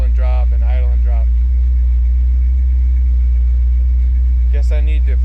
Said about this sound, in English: now it seems like it's idling fine, where just a second ago it idle and drop and idle and drop